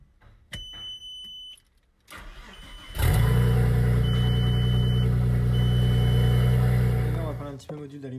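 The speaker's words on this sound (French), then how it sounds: "On va démarrer d'abord." Audi A4 with an S4 engine swap starts up: after a few clicks and a brief electronic chime, the engine cranks and catches into a loud, steady idle rumble that drops away near the end.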